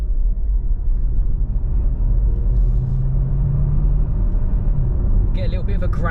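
A plug-in hybrid Hyundai Tucson Ultimate accelerates past a bus, giving a steady low engine growl and road rumble heard from inside the cabin, with a brief brighter rattle near the end.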